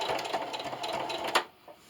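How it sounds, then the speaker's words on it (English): A sewing machine stitches in a quick steady mechanical whir, close by, stopping abruptly near the end. "we'll meet you over at the sewing machine"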